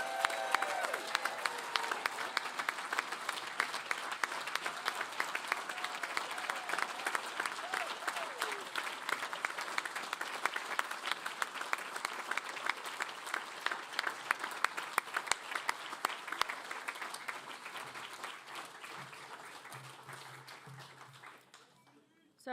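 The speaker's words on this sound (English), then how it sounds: "please join me in applauding all our graduates" A graduation ceremony crowd in Palmerston North gives sustained, dense applause for the graduates, with a few voices underneath; the clapping holds steady for about twenty seconds and then tapers off near the end.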